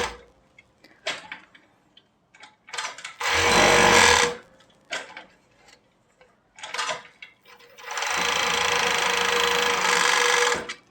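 Interlock sewing machine running fast in bursts: two long, loud whirring runs and several shorter clattering spurts, separated by brief quiet gaps, close by with no talking.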